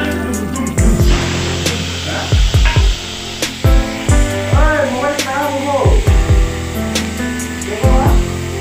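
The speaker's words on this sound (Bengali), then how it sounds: "আলুগুলো একটু লাল লাল করে ভেজে নিব" Potato pieces added one at a time to hot oil in a pan while cabbage with fish head is cooked, loud sizzling pops with each drop, over a steady frying hiss with clinking utensils.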